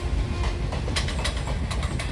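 Pinakini Superfast Express, running from Vijayawada Junction to Chennai Central, rolls past close by with a loud steady rumble and rhythmic clickety-clack of wheels over rail joints.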